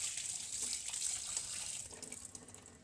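Half a kilo of meat being washed under running water: a continuous close splash and trickle of flowing water, fairly steady and moderately loud, with faint handling noises and no voices.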